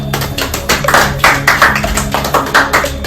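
Studio audience on a Hindi quiz show claps in a brisk, loud burst with uneven surges, close and dense for a few seconds.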